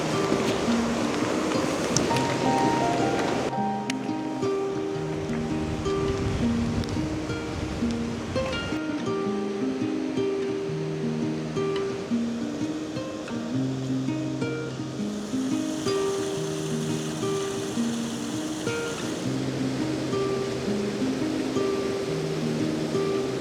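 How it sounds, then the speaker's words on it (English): A waterfall roars steadily on a moody, overcast landscape shoot, its broad rushing wash continuous and fairly close, with a musical backing playing over it throughout. "This waterfall."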